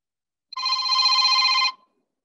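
A telephone ringing with a single steady electronic ring burst lasting about a second, loud and alone against silence.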